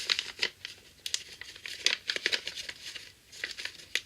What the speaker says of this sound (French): vous allez ouvrir la pochette.